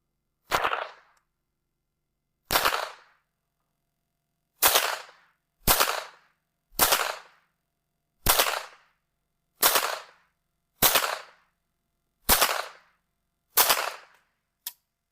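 Ruger 10/22 semi-automatic .22 rifle firing ten sharp single shots at uneven intervals, each a crisp crack with a short decay, loud and close with silence between.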